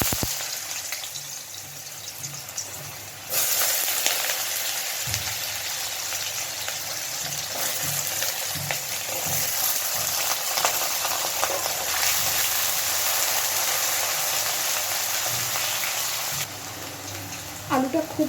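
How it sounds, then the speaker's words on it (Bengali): Potatoes frying lightly in hot oil for a prawn and aubergine dish, a broad hiss that jumps louder after a few seconds and holds steady, with occasional stirring and kitchen knocks. "তো এবার আমি আলুটা ভেজে নেব একটু।"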